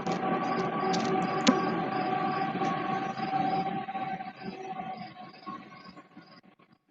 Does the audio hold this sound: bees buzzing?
no